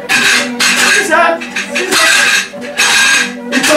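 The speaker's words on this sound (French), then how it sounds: "Vous pouvez pas faire plus de bruit, vous, avec vos casseroles." Pots, pans and cutlery clatter and clink in dense, loud bursts through a domestic stage scene, with a voice partly mixed in underneath.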